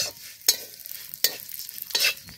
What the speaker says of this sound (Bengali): তাই আমি ভালো করে সেমাইটাকে ভেজে নিচ্ছি